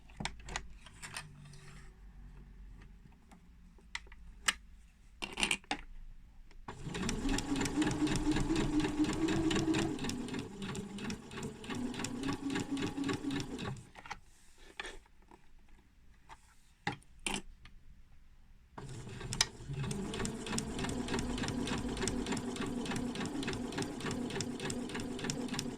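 A sewing machine stitches a mini pincushion, running in long steady bursts of rapid mechanical whirring separated by short pauses and a few clicks as the fabric is pivoted at the corners.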